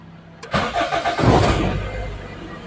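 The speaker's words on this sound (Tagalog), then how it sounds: "I-start na natin." A Toyota Corolla engine cranks briefly after a jump start, catches with a few uneven chugs, then settles into a steady idle, close and clear.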